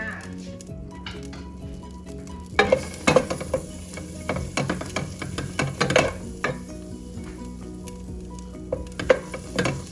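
Onion and celery frying in melted butter for potato soup, with a busy crackling sizzle and repeated clatter of a spatula stirring the pot, growing livelier partway through while someone speaks over it.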